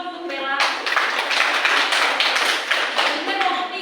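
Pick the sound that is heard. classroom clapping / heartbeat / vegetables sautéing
classroom clapping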